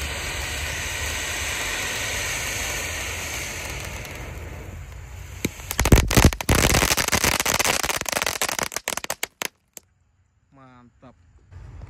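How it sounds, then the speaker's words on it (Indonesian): A 4-inch Conic firework fountain burns with a steady rushing hiss that swells into harsher crackling spurts, then sputters and dies away near the end. "Air mancur Conic ukuran 4 inci bosku."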